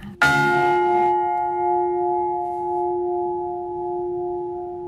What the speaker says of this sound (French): La cloche perd sa note.